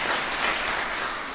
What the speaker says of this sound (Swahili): Tuko na Pemwa kutoka Kasarani, pigia makofi.